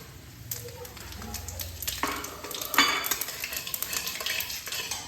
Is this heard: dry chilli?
yes